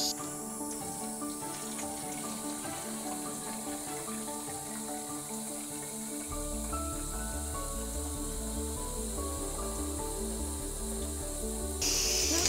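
Tap water runs steadily into a plastic bottle to dilute dog shampoo at a 15 to 1 ratio, a close continuous hiss that deepens and gurgles as the bottle fills.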